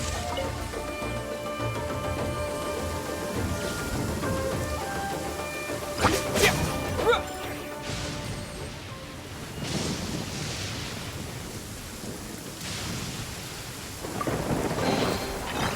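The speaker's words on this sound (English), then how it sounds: "Bellowing thunder!" Thunder and rain in the video game Genshin Impact: steady rainfall with rolling thunder and a sharp crashing peak midway, followed by further rumbles, no voices.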